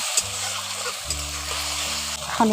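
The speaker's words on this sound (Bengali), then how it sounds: "এখন টমেটোর বাটাটা দিয়ে ভালো করে একটু কষে নিচ্ছি" Tomato paste sautéing in a pan, a steady bright sizzle with faint stirring scrapes, mixed with a low sustained background hum.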